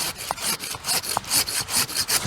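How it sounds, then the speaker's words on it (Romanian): Handsaw cutting through a peach tree branch during pruning, steady rhythmic back-and-forth strokes, close and fairly loud, with no talk. "Va fi nevoie să scoatem toată bucata asta cu ferăstrăul."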